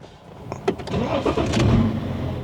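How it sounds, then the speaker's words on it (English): A BMW X5 35d diesel engine, just given a Stage 2 tune, cranks over with a few quick clicks and then catches, settling into a rough, steady idle nearby. "time to fire it up"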